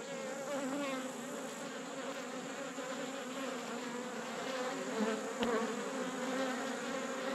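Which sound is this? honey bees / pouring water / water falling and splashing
honey bees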